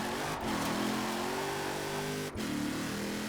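A Jeep Gladiator pickup on off-road tires revs in Forza Horizon 4. The engine holds a loud, steady drone that rises in pitch and breaks off briefly twice.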